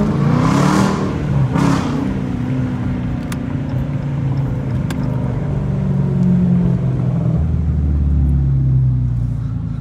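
A Dodge Challenger R/T with the 345 engine accelerating on a downtown street in early morning, a loud, deep rumbling exhaust that swells and holds steady, with brief rising surges near the start.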